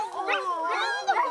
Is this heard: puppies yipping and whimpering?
yes